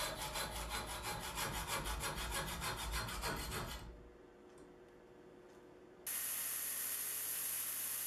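A 5/32 inch steel rod being sawn by hand, with fast, even rasping strokes for a few seconds, then a pause and a steady hiss.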